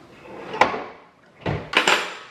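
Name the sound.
kitchen drawer sliding on drawer slides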